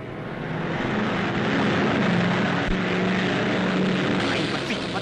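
A steady, droning aircraft engine hums continuously, a broad constant roar with a low tonal buzz, fairly close and unchanging.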